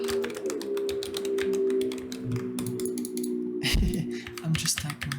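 Typing on a computer keyboard while coding in Rust: a rapid, steady stream of close key taps over a soft tonal background hum, with quiet speech faintly present.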